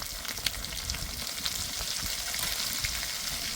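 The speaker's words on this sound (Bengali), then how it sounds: "এবার ভালো করে ভেজে নেব" Slit green chillies and turmeric powder fry in hot oil for a fish-head and jute-leaf curry, giving a steady, close, bright sizzle with small crackles and no voices.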